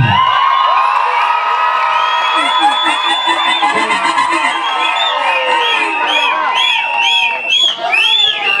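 A large crowd at a Gabonese customary Adouma wedding cheers, whoops and shouts loudly and continuously, with high children's voices and trilling cries layered over a dense roar.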